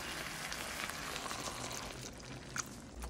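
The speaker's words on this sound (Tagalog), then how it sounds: "Lagyan natin ang gata." Coconut milk goes into skipjack tuna simmering in a pan, giving a soft, steady bubbling sizzle with faint pouring and stirring, low and continuous throughout.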